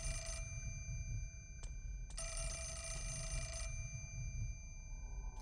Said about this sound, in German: Achso, Telefon, ja klar.